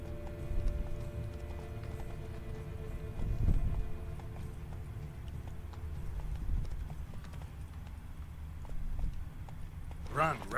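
Horse hooves clip-clop at a gallop in The Witcher 3: Blood & Wine, a steady rhythmic beat with a horse whinnying near the end, heard alongside continuous game ambience and music.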